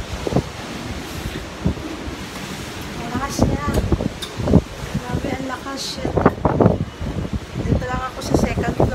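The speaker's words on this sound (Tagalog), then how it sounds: "ang lakas ng hangin" Strong typhoon wind in Japan roars and gusts continuously, buffeting the microphone, while people talk over it.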